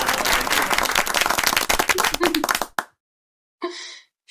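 A burst of hand clapping from a small group, dense and lively for a few seconds, then cutting off abruptly before a brief voice.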